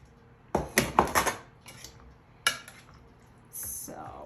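Spoon clacking and scraping in a bowl while cooked minute rice stuffing for bell peppers is mixed, a quick cluster of knocks followed by a single later stroke and a soft squishy stir, close and fairly quiet.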